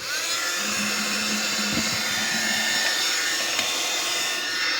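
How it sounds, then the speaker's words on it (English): A handheld heat tool blows over freshly applied, fast-drying paint on an upcycling craft piece, making a constant close whirring hiss of fan and hot air with a faint hum underneath throughout. "Now I'm going to take my heat tool, and just quickly dry it because this paint dries really, really quickly"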